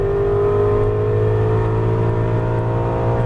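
Aston Martin V8 Vantage engine held under steady throttle on a racing circuit, a loud, continuous droning growl from inside the car, sustained without pause.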